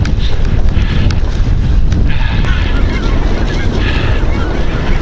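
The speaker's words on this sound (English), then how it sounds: "Even the geese think we're crazy." Geese honk over loud microphone wind noise while a group rides in the Tripleshot X fondo in Victoria, the calls coming as a few brief nasal honks partly buried in the roar.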